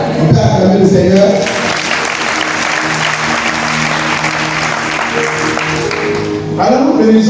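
A church congregation at a Catholic Charismatic Renewal gathering applauds to acclaim the Lord, loud sustained clapping filling the room for several seconds, with voices talking before it starts and after it fades.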